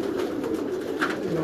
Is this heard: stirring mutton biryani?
no